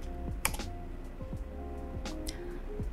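A search term being typed on a computer keyboard into a web browser's search box: a quick run of light, clicky keystrokes in short bursts, fairly close and quiet, with no talking.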